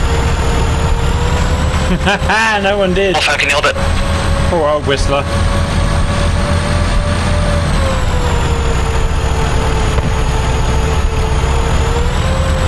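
A heavy truck engine drones loudly and continuously in the video game Arma 3, with a hissing air-brake burst early on, while people talk over the rumble.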